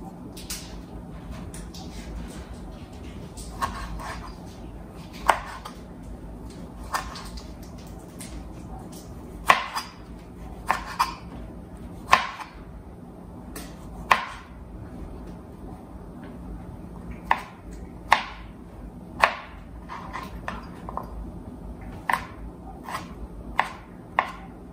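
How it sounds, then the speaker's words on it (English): Tomatoes are being cored and small-diced with a knife, sharp chopping taps striking a cutting board at an irregular pace, some in quick clusters, with quiet gaps between and no speech. "I'm going to small dice these and just take out the core and put them in this bowl"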